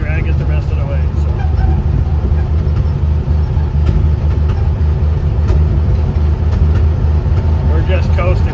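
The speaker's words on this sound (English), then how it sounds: "we're just coasting down on the gears. That's why she's popping and farting like this." A 1956 Chevrolet 6400 truck coasting downhill on its gears, the engine running loud and steady with rough low rumbling and occasional pops, with someone talking over it throughout.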